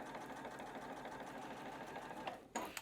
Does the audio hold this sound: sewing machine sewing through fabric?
yes